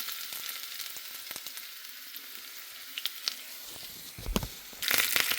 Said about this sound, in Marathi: सो आता आपण यात मी ती फोडणी देते.